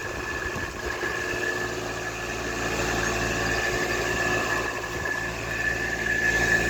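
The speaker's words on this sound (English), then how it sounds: "This condenser fan motor is noisy." A noisy air conditioner condenser fan motor runs steadily close by, a continuous mechanical hum with a faint whine and rattle, loudness holding even throughout with no talking.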